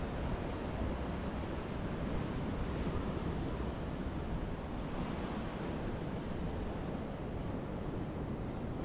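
Waves wash onto the shore at Vung Tau beach, a steady broadband roar of surf with wind noise, continuous and fairly distant with no voices.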